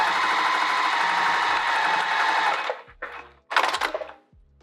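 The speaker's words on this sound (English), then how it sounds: "we're going to sew right across that top straight edge again" A sewing machine runs in a steady close-up burst along the straight top edge of a small clutch, stops, then gives two short spurts with clicks and pauses between.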